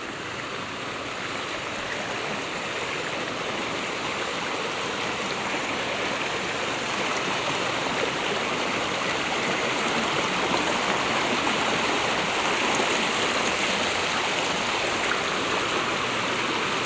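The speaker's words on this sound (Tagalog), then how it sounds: "Malakas po ang tubig ng sapa." Strong creek current rushing steadily past, a dense, continuous wash of flowing water that stays loud and close throughout, with no voices.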